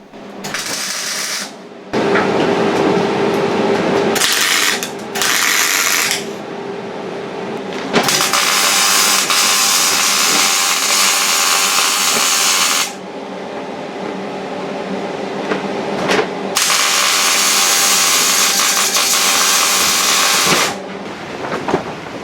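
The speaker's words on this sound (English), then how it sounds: "I cut off this piece of excess steel that I decided I didn't need" Excess steel being cut from the inner wing of a Talbot Express camper van during welding repairs, loud harsh grinding in several long bursts separated by short pauses.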